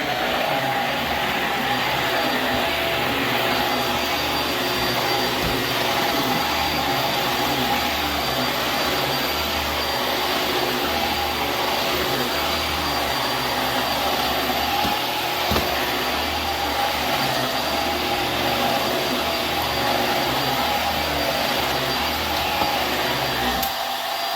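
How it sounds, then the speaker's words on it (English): A Quantum upright water filtration vacuum cleaner runs continuously with a loud, steady whirring drone and a high whine, unbroken for the whole stretch. "let's vacuum this section"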